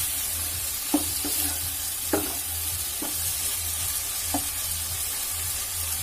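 Vegetables for chicken pulao frying in a pan, a constant hiss of sizzling oil with a few sharp scrapes and knocks of a spoon stirring at irregular intervals, close and without talk.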